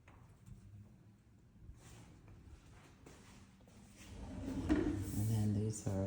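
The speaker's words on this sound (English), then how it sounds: "And then these are the cabinet doors." Kitchen cabinet doors in a Coleman floor plan home are opened and shut, giving soft wooden knocks and a louder thud near the end, close by in a quiet room.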